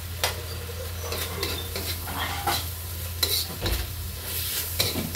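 Potatoes tumble into a frying pan of Ilocano igado, then sizzle steadily beneath repeated scraping stir strokes, with a few louder clatters of the utensil against the pan, close and fairly loud.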